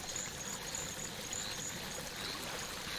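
A waterfall in the video game Curious Expedition 2 gives off a steady, even rush of flowing water that holds constant throughout, with no voices over it.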